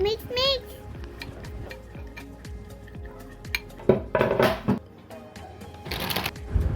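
Turmeric powder and ginger-garlic paste being stirred into a pot for a drumstick dish, heard as a run of scraping and clinking spoon strokes against the pot, close by, with a few louder clatters.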